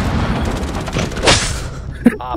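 Rapid gunfire from the tactical shooter Rainbow Six Siege, a burst of loud shots over roughly two seconds, ending with a sharp bang, while players talk over it.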